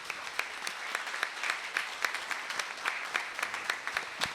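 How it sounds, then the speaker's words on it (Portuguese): A final round of applause rises at a metalworkers' union event in Belo Horizonte, many hands clapping steadily with a few sharper claps standing out, moderately loud and unbroken, with a faint murmur of voices beneath. "Edmundo Oraldo, Geraldo Valgas e a Rita, levante para a gente fazer essa última salva de palmas."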